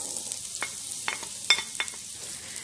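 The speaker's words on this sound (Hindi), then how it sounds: "तेल गर्म हो चुका है, अब हम इसके अंदर प्याज डालेंगे" Onions fried in hot oil in a pan, a steady soft sizzle with several sharp stirring clicks and scrapes spread through the short stretch, no voices.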